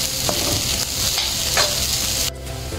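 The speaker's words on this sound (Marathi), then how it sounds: "कांदा हलका मऊ होईपर्यंत आपण परतवून घेऊया" Onions sautéing in a pan for vegetable cutlets give a loud, continuous sizzle with stirring scrapes. A few sharper utensil taps cut through before the sizzle drops abruptly near the end.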